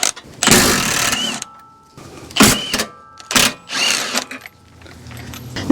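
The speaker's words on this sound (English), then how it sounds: "I'm going to use the mid-torque impact to loosen these up and take them off." Three loud, short bursts from a mid-torque impact wrench loosening ball joint nuts on a Toyota Corolla, Matrix or Pontiac Vibe, sharp hammering rattles separated by brief pauses, close up.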